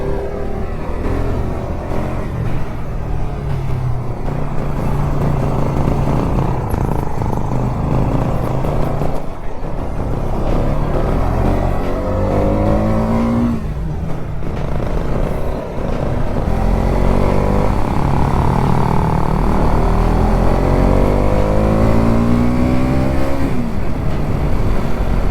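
A Bajaj Pulsar NS200 motorcycle rides at night at a steady speed on an off-road route near Lachung, North Sikkim. Loud, close engine drone with shifting harmonic whine and revs rising and falling, continuous and without any talking.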